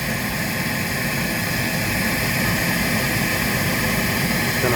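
A gas furnace's inducer blower runs steadily during a purge cycle before the next ignition attempt, giving a loud, continuous broadband whoosh with a low hum and no clicks or pauses.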